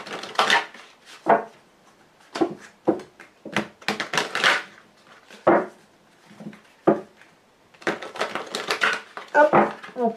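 A deck of Lenormand fortune-telling cards is shuffled and cut in sharp, close bursts of riffling and slapping, separated by short silences across several rounds.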